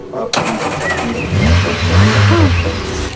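A car engine cranks and catches as the key is turned, then settles into a loud, close, steady running rumble for a few seconds, with no talk over it.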